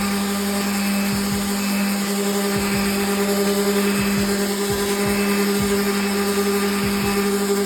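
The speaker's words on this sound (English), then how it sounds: "start sanding and I'll show you what it looks like." A steady, loud whirring drone of a power sander resurfacing a hazy headlight lens, continuous and close, with rhythmic dips as the pad sweeps across the surface.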